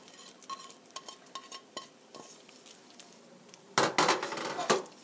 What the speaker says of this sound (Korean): 그리고 5 minutes stir fry 5분간 볶아주세요.